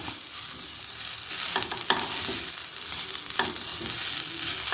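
Steady sizzling of onions frying in a pan until soft, with occasional scrapes and clinks of stirring, close up and without talk.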